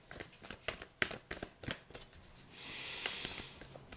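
Tarot cards are shuffled by hand in a quick series of crisp riffling flicks and taps, followed by a softer sliding rustle as a card is drawn, close and quiet with no talk.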